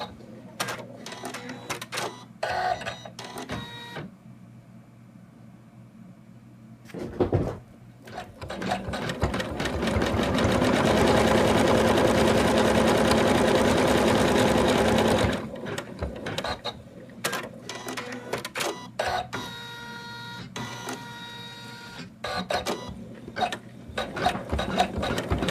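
An embroidery machine stitches fur fabric onto an in-the-hoop Santa doll, a rapid mechanical clatter broken by pauses, with a long steady buzzing run in the middle.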